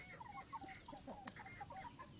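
Native chickens cluck repeatedly in a garden, several birds close by making short, uneven calls over a low steady background, with no talking.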